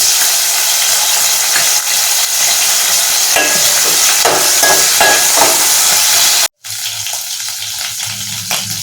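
Netthallu, small dried fish, frying in a pan, with a loud constant sizzle and crackle and occasional stirring scrapes, briefly cut off near the end before the frying resumes.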